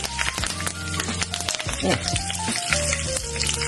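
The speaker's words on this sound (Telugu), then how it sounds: "దీంట్లో కాసిన్ని కరివేపాకు" Curry leaves crackle and sizzle loudly in hot tempering oil for a basic seasoning of turmeric, heading a spinach dish; steady frying hiss with sharp pops throughout, no talking.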